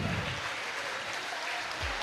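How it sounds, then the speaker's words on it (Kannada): An audience applauds local street vendors being welcomed onto a stage, a faint, steady patter of many hands clapping that sounds distant and continues throughout. "ಎಲ್ಲರೂ ಜೋರಾಗಿ ಚಪ್ಪಾಳೆಯನ್ನು ಕೊಡಬೇಕಂತ ವಿನಂತಿ."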